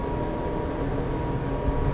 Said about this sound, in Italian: sentite il rombo di questi motori